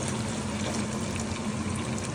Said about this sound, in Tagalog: Okay, lagyan natin siya ng tubig.